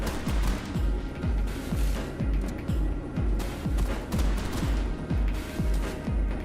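A robot in Escape the Liminal Dome fires mines in a rapid, regular series of punchy low thuds, about two per second, loud and close with a clattering edge.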